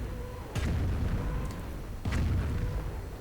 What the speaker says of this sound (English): Needlewerfers firing again.